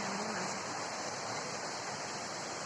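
Dhoni waterfall in Palakkad roars as a steady, dense wash of falling water, close and continuous with no break, no other sound standing out.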